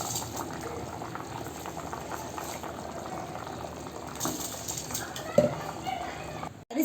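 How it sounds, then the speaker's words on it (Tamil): Salted water boiling in a pot on the stove for Ambur chicken biryani, a steady bubbling hiss running throughout at close range, with a brief clink near the end. "2 நிமிஷம் கொதிக்கட்டும்."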